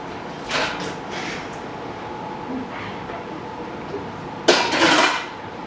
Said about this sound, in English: we're going to add the broccoli and pasta straight to the